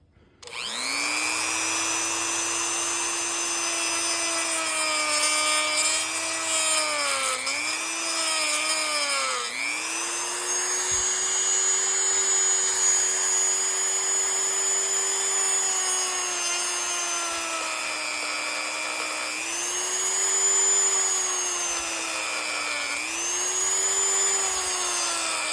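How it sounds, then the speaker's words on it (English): A Dremel rotary tool cuts away the plastic orange tip of an airsoft gun, a steady high-pitched whine that dips and recovers as the bit bites into the plastic, running loud and close for the whole stretch with no talk. "I'm going to use the Dremel and cut away those two edges"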